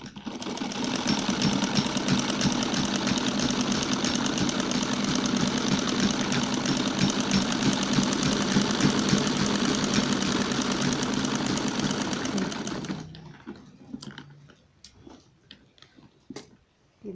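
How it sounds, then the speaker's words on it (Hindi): A sewing machine stitches the side seams of a gown lining in a steady, continuous whir for about thirteen seconds, then stops, leaving only a few faint clicks. "और अब हम इनमें सिलाई लगा देंगे दोनों में साइडों में से।"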